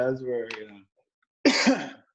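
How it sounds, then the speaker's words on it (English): A dry throat produces a short burst of coughing and throat clearing, heard up close after a stretch of talk and a brief silence. "I'm coughing on the podcast."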